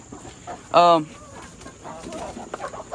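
Chickens on a chicken farm, with one loud, close squawking call followed by softer, scattered clucks against a steady background hum.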